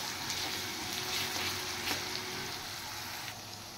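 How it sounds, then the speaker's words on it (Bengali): Chopped garlic frying in a hot pan while a dal curry is being made, giving a steady, close sizzle with soft crackles and spits throughout, no voices. "এবার এই রসুনটা দিয়ে একটু আমি ফ্রাই করব, তাহলে কাঁচা গন্ধটা রসুনে চলে যাবে।"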